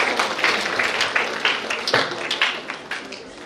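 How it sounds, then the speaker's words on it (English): A hall audience at a medical college's International Women's Day event claps steadily and closely, a dense patter of hands with slight swells throughout. "Let's show our great appreciation with a huge round of applause for their remarkable work."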